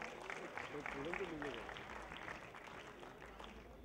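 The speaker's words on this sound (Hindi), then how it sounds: "जोरदार तालियों के साथ." Audience applause welcoming a member of parliament onstage at a Basanti Chola Diwas celebration, a steady wash of clapping sustained throughout with voices mixed in underneath.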